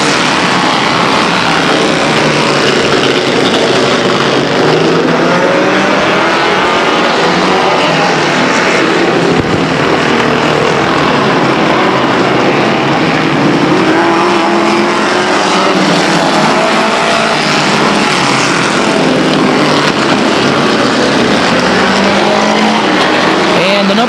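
Vintage race cars circle the Stockton 99 Speedway oval during an evening demo, a dense continuous roar of several engines rising and falling as they pass, loud and sustained throughout.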